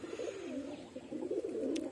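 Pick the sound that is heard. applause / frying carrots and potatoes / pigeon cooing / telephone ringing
pigeon cooing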